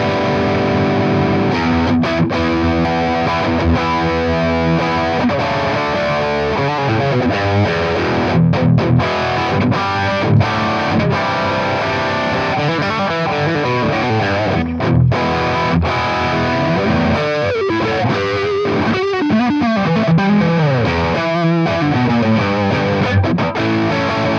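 Electric guitar, a Telecaster, played through a high-gain boutique overdrive pedal: a thick, saturated, distorted tone with sustained chords and riffs, loud and continuous with no talking.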